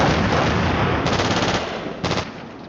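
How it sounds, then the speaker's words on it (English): An automatic grenade launcher fires in a combat leader infantry practice scenario, a dense close burst of rapid thumping reports with a brief pause and a second short burst as the sound fades. "That's the automatic grenade launcher."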